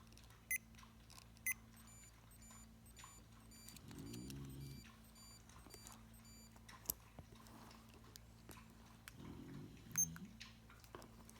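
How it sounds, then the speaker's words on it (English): Short electronic beeps chirp in two brief bursts amid quiet room noise, with a few sharp clicks and ticks scattered throughout. "Who's beeping?"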